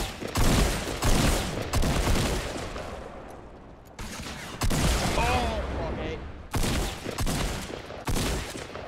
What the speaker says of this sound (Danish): Vi bliver skudt fra flere sider af.